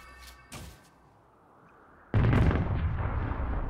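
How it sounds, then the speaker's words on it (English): Turret being destroyed in League of Legends, a sudden loud explosive burst that follows a few faint game pops and then rumbles on to the end. "Blue team's turret has been destroyed."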